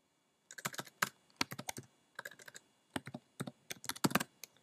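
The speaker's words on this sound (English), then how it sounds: "Now type in the following code." Code is typed on a computer keyboard in quick, irregular bursts of crisp key clicks separated by short pauses, close and fairly quiet in an otherwise silent room.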